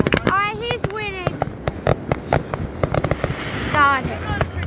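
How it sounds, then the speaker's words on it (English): Fireworks bang and crackle in rapid, irregular bursts during a backyard firework battle, loud and close, while people shout and talk excitedly over the pops. "Firework battle."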